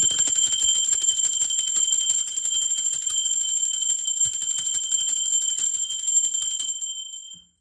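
A single struck bell rings out with a bright, sustained metallic tone during an energy-cleansing reading, loud and close, slowly fading and then cut off after about seven seconds.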